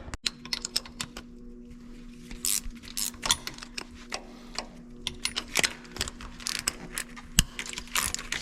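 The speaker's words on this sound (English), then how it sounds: "And we'll get these bolts all undone." Ratchet undoing bolts on a John Deere 8R driver assembly, irregular bursts of quick clicks and metallic ticks scattered throughout, moderately close over a constant low hum, no speech.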